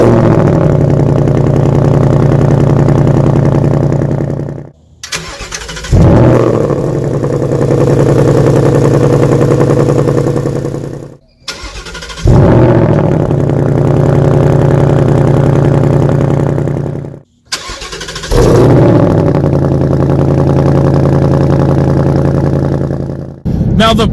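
A 2018 Mustang GT with active exhaust fires up cold three times in a row, each start a loud bark that settles into a deep, rumbling high idle before it is shut off.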